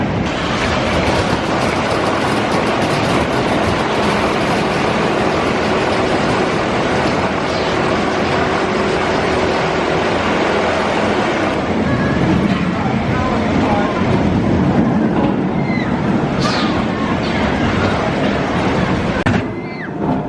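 Spinball Wizard spinning roller coaster at Alton Towers: a loud, continuous rumble and clatter of the ride running on its track for about twenty seconds, with steady broadband noise and a brief shift in texture partway through.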